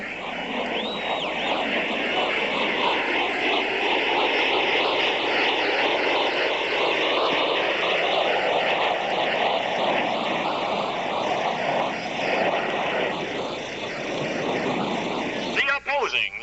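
Four Blue Angels jets fly past in tight diamond formation at the 1986 Cleveland National Air Show, a sustained, fluctuating roar of engines under a loudspeaker announcer talking the whole time.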